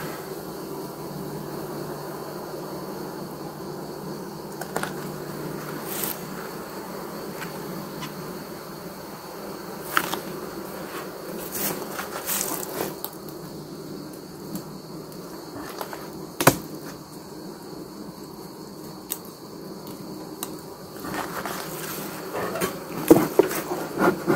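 Honeybees buzzing in an opened beehive with worker and drone brood: a steady close hum of many wings, with occasional louder buzzes as single bees pass near.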